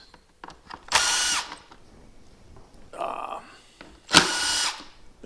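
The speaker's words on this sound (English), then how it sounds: "I don't have a problem with people using power tools to take these things apart" A power tool drives out screws on the cover of an Automower 450X robotic lawn mower in three short, close whirring bursts separated by quiet pauses.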